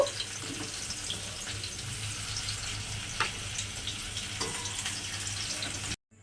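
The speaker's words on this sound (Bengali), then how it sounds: "এবারে সবজিগুলো আমি একটু লাল করে ভেজে নেব" Vegetables fry in hot oil with a constant, moderately loud hiss and crackle, then the sound cuts off abruptly at the end.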